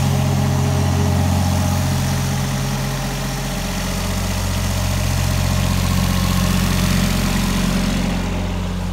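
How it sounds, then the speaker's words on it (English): A light tower's engine idles steadily for the whole stretch, a loud, even low rumble with a constant mechanical drone and no voices over it. "Light tower sitting there running, working fine like it should."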